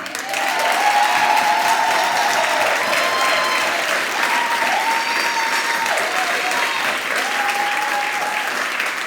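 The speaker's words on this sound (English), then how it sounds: "So I would like to put our hands together, a really good, loud applause for our camp staff this week." Loud, sustained applause from a camp audience at a final performance, dense clapping filling the whole stretch with scattered cheers and whoops rising above it.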